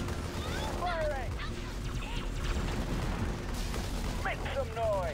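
Sustained battle gunfire in the video game Halo Wars: a dense, continuous rumble of firing and distant blasts with whistling effects over the top, steady and loud throughout, with no clear talk.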